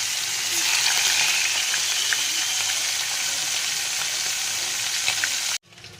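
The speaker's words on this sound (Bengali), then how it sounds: "এবার একটা একটা করে চিংড়ি মাছ ভেজে নেব অসম্ভব ফাটছে দেখো" Prawns frying one at a time in hot oil, a loud continuous sizzle with sharp spattering pops close by, cutting off abruptly near the end.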